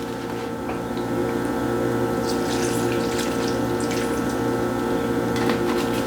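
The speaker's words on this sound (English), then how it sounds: "we're gonna soak them, y'all, in some good old bourbon right here" Bourbon pours over dried cranberries in a container for bread pudding, a steady close liquid trickle and splash running throughout with no talk.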